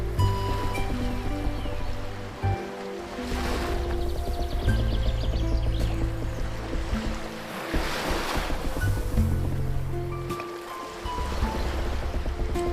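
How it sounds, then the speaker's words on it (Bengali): Cartoon sea scene with a boat carried on ocean waves: steady surf and rushing water swell and recede in repeated surges, with some wind noise and no talk. "মহেশ সেই নৌকাতে করে তার গ্রামের দিকে ফিরে গেল।"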